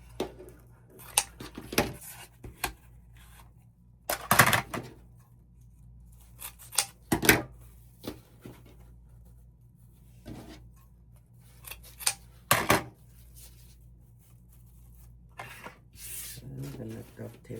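Scissors snip through wreath material for a fall front-door wreath on a wire frame, crisp cuts landing in scattered bursts with pauses between, close and clear, with a voice talking quietly at times.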